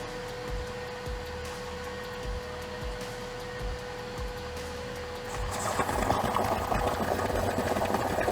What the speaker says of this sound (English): simply connect the vacuum regulator and start it up